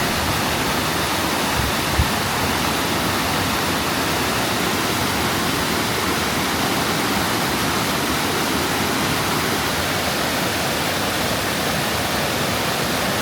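Tangle Creek Falls in Jasper National Park pours in a steady, dense roar of falling water, loud and close, an unbroken wash of white-noise rush with no voices.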